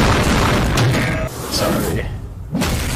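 Tank cannon fire in the Girls und Panzer anime: loud booming blasts and thuds over a dense, noisy mix, with a brief drop near the end before another burst.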